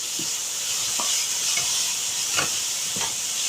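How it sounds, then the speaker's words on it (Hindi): Vegetables stir-frying on high flame for chicken fried rice, a loud continuous sizzle broken by several clattering stirs and tosses of the pan at close range. "ये हाई फ्लेम में पकाइएगा वरना आपकी सब्जियों में जायका नहीं आएगा"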